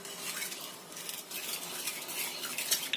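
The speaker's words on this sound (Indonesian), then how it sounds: "Kita aduk lagi." A spoon stirring cake batter in a bowl, a soft continuous scraping and clinking that is faint and steady with no talk.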